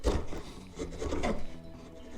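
A cheap chisel pushed with force through wood gives close, quiet scraping and rasping strokes, a brief uneven grinding cut with a few rubbing pulses.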